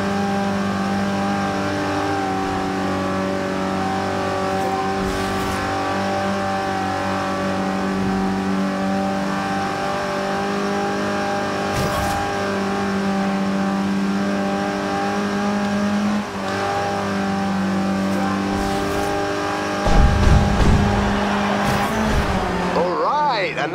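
A Volkswagen Golf GTI engine revs in Forza Horizon 2 racing, a loud, sustained droning engine note with shifting pitch and brief tire squeals, plus a rougher burst near the end.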